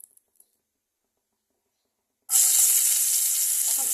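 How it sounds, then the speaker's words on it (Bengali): Dried fish (shutki) goes into a little hot oil for a light fry: near-silence, then a sudden loud sizzle that holds steady and bright until the end. "অল্প তেল দিয়ে শুটকিটাকে একটু ভাজা ফ্রাই মতো করে নেব, হালকা ফ্রাই।"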